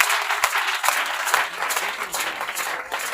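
A church congregation at a prayer camp applauds in acclaim, a lively, sustained burst of many hands clapping with crowd noise mixed in.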